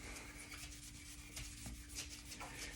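Sandpaper rubbing along a wooden guitar neck to give it a satin finish, soft steady strokes of close, quiet rasping friction with a faint constant hum behind them.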